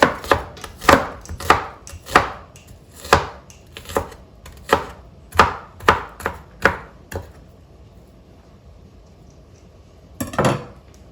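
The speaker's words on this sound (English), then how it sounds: "that is a lot of onions, peeled, chopped, and now going in" Onions chopped on a board with a knife, about fifteen sharp close chops in a brisk uneven rhythm, a pause, then one final chop.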